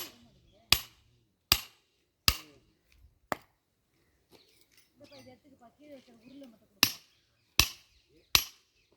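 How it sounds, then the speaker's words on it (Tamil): Roadwork cutting into a road surface gives a run of sharp, loud impacts, about seven hard cracks at an uneven pace, with quieter clatter and a brief stretch of muffled voices between them. "ரோடு தான் கட் பண்ணிக்கிறோம் சவுண்டு கேட்குதுல்ல"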